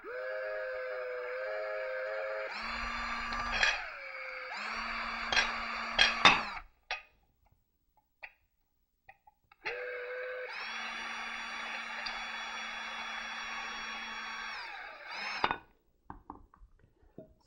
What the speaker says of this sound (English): I'm going to use the drill to drive the bolt through.